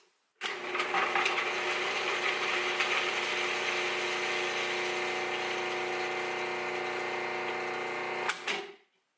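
A Cuisinart 14-cup food processor with its steel blade mincing three peeled garlic cloves, switched on for one steady loud whirring run of about eight seconds, then stopping with a brief clatter.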